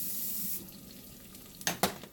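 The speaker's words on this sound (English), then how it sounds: "I need to add a little bit more water to this." About a quarter cup of water poured into a cooking pan of meatballs in brown gravy, a short running splash that cuts off, followed by two quick knocks, close and fairly quiet with no speech.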